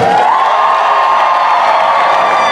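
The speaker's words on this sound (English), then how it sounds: "How about a round of applause for Alexandra?" An audience at a Boston event with Mayor Marty Walsh cheers and applauds steadily, a dense wash of clapping and whoops that stays loud and even throughout, with no voices standing out.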